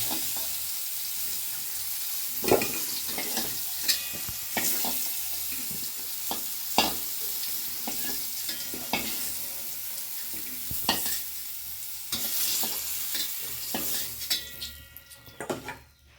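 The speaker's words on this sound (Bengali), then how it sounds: "দেখো হালকা করে একটু ভেজে নিলাম" Pumpkin pieces fry lightly in oil in a kadai for a pumpkin sour dish with fish and mango, soft continuous sizzling broken by sharp stirring scrapes and clinks, close up.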